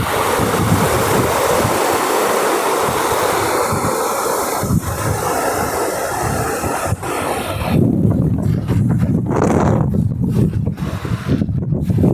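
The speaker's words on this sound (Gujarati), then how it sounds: "બે કાંઠે નદી જાય છે" Loud, continuous rushing of a flooded river flowing bank to bank, a broad steady roar close by with some gusty buffeting, no voices.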